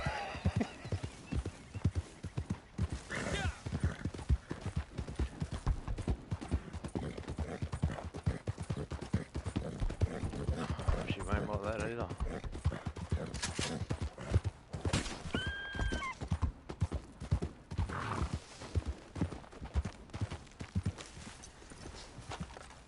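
Horse riding in a PS4 video game: steady clip-clop of hooves carrying on throughout, with a couple of clear whinnies partway through and no talk over them.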